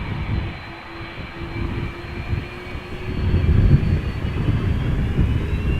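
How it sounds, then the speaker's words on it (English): Delta Airlines A330-300 jet engines spool up at Amsterdam Schiphol, a steady low roar with a faint whine that grows louder partway through and holds, heard from a distance with no talking. "Something is spooling up behind me"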